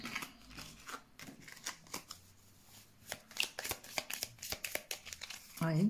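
Tarot cards being shuffled by hand in a quiet room, a close run of quick papery riffles and flicks with short pauses, faint overall, ending with a brief spoken word.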